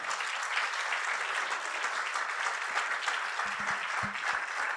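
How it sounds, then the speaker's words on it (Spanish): Steady audience applause fills a large venue during a talk, a dense continuous wash of many hands clapping at moderate level, with a few low thumps near the end. "Este es un buen momento para aplaudir"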